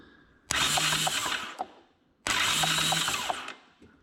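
Starter motor cranks on a Honda TRX ATV with a no-spark fault, two separate loud whirring bursts of about a second each, the pause between them nearly silent.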